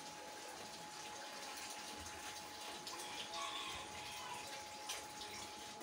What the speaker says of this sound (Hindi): पानी ना मैं कोई 3 किलो पा दवांगी जिहड़ा ये अच्छी तरह गल जावे